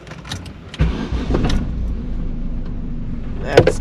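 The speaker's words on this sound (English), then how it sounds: "Let me start the engine." A car's engine cranks and catches with a sudden loud start, then settles into a steady, close idle from inside the cabin.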